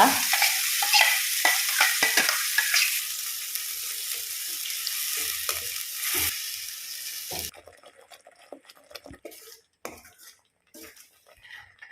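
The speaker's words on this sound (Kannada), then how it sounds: "ಈ ಗ್ರೈಂಡ್ ಮಾಡಿಟ್ಟಂಥ ಮಸಾಲೆಯನ್ನು ಹಾಕಿ ಸ್ವಲ್ಪ ಹೊತ್ತಿದ ಎಣ್ಣೆಯಲ್ಲಿ ಫ್ರೈ ಮಾಡುವ" Ground sambar masala fries in hot oil for a quick dal-free tiffin sambar, giving a loud, dense sizzle for about seven seconds before it drops to quieter stirring and utensil clinks.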